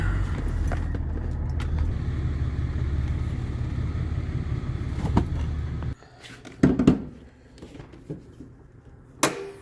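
A diesel pickup fitted with a BD Diesel two-piece exhaust manifold idles and rolls into a shop, its low engine rumble steady until it shuts off, followed by door and key clatter.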